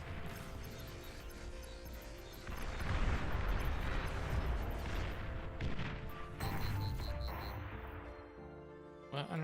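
Artillery shelling in the real-time strategy game Beyond All Reason: a dense, continuous barrage of deep booms and crashing impacts that swells midway and rumbles on, with faint voices in the mix.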